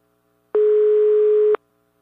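A single steady telephone ringback tone sounds while a call connects, a clean loud beep lasting about a second between silences.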